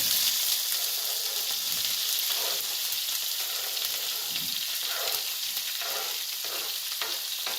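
Chopped bell pepper hits a hot pan for a dhaba-style whole masoor curry, giving a steady, loud sizzle and frying hiss that carries on without a break, with faint stirring scrapes underneath.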